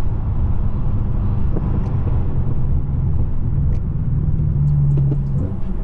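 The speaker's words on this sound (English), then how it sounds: "My favorite sound is that sound of that turbo, man." Tuned 800 hp Stage 2 BMW M6 with its turbo spooling up, a steady loud engine rumble with a rising tonal whine near the end, heard from inside the car with no talk.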